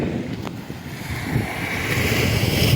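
Sea waves washing onto the beach near Vattakottai, a steady surf roar with strong wind buffeting the microphone throughout, building slightly louder toward the end, with no voices.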